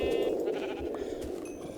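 Sheep bleating in a Minecraft game world, a single wavering nasal baa lasting over a second, fairly faint and alone without talk.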